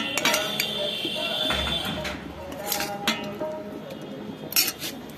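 Metal utensils clink and scrape against a metal kadhai as cooked vegetables are emptied out, with brief bright clanks scattered through steady kitchen noise.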